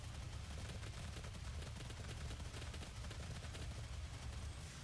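Continuous gunfire aimed at a boss in the video game Doom 2016: dense rapid shots in an unbroken stream, low and muffled, running throughout without pause.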